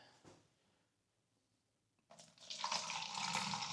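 Water pours steadily into a wasp trap after a brief quiet pause, a bright splashing stream that is close and fairly loud.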